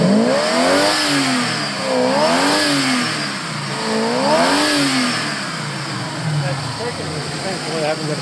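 A 327 engine with a dual-fuel setup running on LP gas through the primaries revs in slow, rising and falling surges, loud and close, with a steady underlying drone. Someone talks over it.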